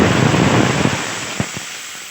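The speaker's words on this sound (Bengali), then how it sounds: "এবার খুব ভালোভাবে নাড়তে থাকবো, নয়তোবা কড়াইয়ের তলায় লেগে যাবে।" Grated carrots fry in a karahi for carrot payesh, a steady close sizzle that gradually thins out, with a couple of soft spatula knocks against the pan near the end.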